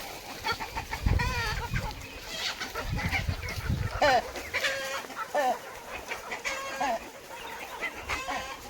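Several chickens cluck and chatter close by in short, overlapping bursts while eating paddy feed in the morning, with scratching and pecking noises between calls.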